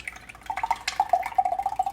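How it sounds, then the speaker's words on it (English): Water is poured into a pot of brown stew chicken, heard as a short run of close, bright trickling and dripping splashes with bubbly plops that quicken toward the end. "what I'm going to do is just pour this water in here"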